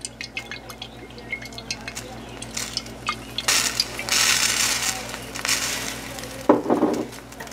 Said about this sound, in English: we're going to put a little olive oil in